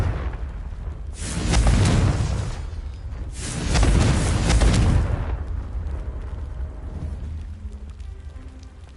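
Two heavy, booming blasts from the Confringo fire spell in Hogwarts Legacy, each a broad rumbling burst lasting about two seconds and then trailing away, followed by quieter ambient noise.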